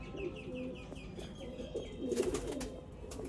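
A Batere Ali-type breeder pigeon coos softly and close by, a few low throaty rolls over a quiet background with faint chirps and light rustling.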